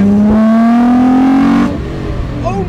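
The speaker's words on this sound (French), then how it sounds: "là on a un peu de place, Cole, accélère un petit peu." A car accelerates hard with a loud, rising engine note that climbs steadily for over a second before cutting off, followed by lower road and engine noise; close and dominant.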